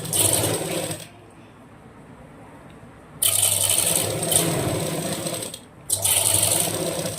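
Sewing machine stitching a blouse seam runs in bursts, a steady mechanical whir starting and stopping, with a quiet pause in the middle, close and fairly loud.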